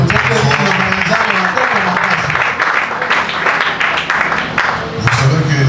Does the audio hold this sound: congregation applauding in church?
yes